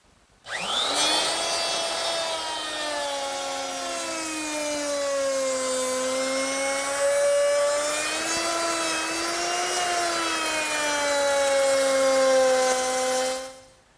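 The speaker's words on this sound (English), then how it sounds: "I'll make that rabbet using my 3/8 inch rabbiting bit in my router." A router fitted with a 3/8 inch rabbeting bit cutting a rabbet in poplar: a motor spins up sharply into a loud, high whining scream with a shifting pitch as it cuts, then stops abruptly.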